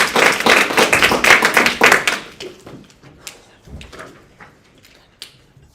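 Sharp hand claps at a national school debate round mark speaking time, a quick run of crisp claps for about two seconds, then a few scattered softer taps in a quiet room.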